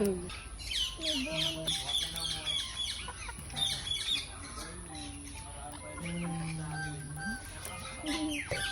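A bird, likely a chicken, clucking repeatedly and fairly close in a home setting, its calls mixed with people talking and a voice.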